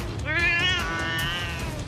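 A pet cat gives a single drawn-out meow, close and clear, lasting about a second and a half.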